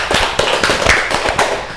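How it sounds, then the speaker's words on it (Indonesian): Classroom students clapping briefly, a short loud burst of uneven hand claps close by. "Tepuk tangan buat Prasetyo."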